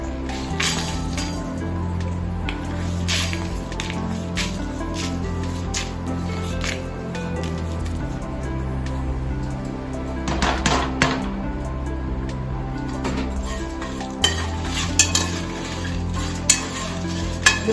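Masala spices dry-roasting in a pan with no oil for mutton paya, with steady low sizzle and frequent sharp clinks and scrapes of a spoon against the metal pan, close and continuous.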